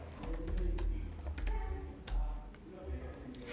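Someone types a MongoDB database query on a computer keyboard, giving quick, irregular key clicks at close range over a low background hum.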